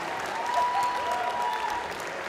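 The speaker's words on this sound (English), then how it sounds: "Give him a big round of applause, everybody." An audience at a televised singing-competition stage show claps for the final four contestants, a dense, even round of applause over a faint sustained music tone, lasting just over two seconds.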